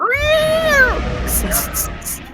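A human voice imitates a cat defending itself, producing a drawn-out, rising-and-falling yowl followed by several sharp, breathy hisses, close and loud.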